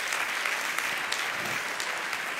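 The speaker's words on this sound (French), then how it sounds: "Applaudissez-le" Sustained audience applause at the Mondial de l'Auto motor show, welcoming the show's general commissioner, dense and even throughout the short stretch.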